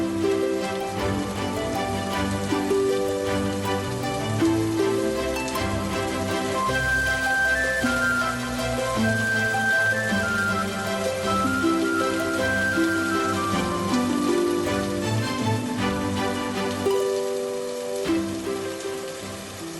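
Steady rain falls throughout the whole stretch, set against a continuous tonal musical backdrop, with no talking.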